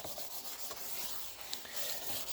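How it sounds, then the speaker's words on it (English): Willow charcoal rubs steadily across a sheet of paper, a soft continuous scratchy hiss laid down as a broad wash, close and quiet with faint strokes throughout. "I'm just covering the page with a kind of wash of willow charcoal."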